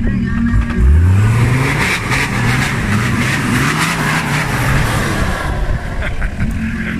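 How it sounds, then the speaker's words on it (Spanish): Toyota 4x4 engine labouring uphill at an off-road trial in Pola de Allande, a loud steady roar that rises and falls as the throttle works, with shouting spectators faintly mixed in. "a ver si sube el Toyota"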